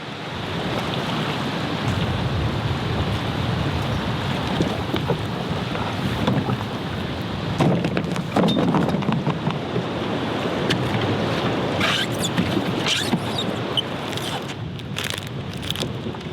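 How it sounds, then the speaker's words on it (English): Canoe out on a big lake, with steady wind buffeting the microphone and water sloshing against the hull, punctuated by occasional splashes and clunks of paddle strokes. "we're gonna be doing some big lake paddling for this portion of the day"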